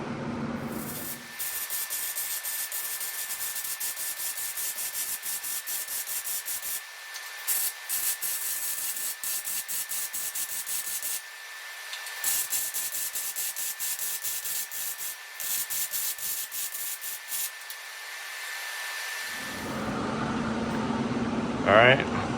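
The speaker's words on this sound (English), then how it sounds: "got it all welded" Welding on an aluminum boat hull, a long steady hissing, crackling arc that runs in several stretches with brief pauses, close and fairly loud, with a constant thin electrical whine beneath it.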